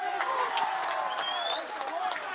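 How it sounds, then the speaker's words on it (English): A crowd at a Kelston schools rugby match roars and cheers continuously, a dense, fairly loud wash of voices and whistles with a commentator's voice partly audible underneath. "Crowd's gone wild sideline."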